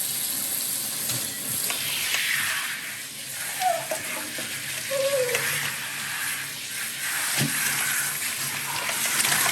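Running water rinses a senior pet's face during grooming, a steady close splashing and hiss with a few brief sloshes and no talking.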